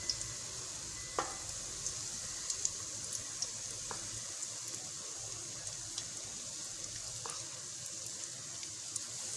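Besan bhallas frying in ghee make a soft, continuous sizzle with occasional light clicks from the spoon, fairly faint and with no talk.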